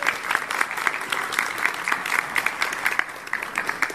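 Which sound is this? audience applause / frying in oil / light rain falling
audience applause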